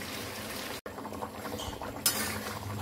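Meat being sautéed and stirred in a pan, with steady clinks of a metal spoon against the pan over a low simmering bubble, one short gap, then continued scraping.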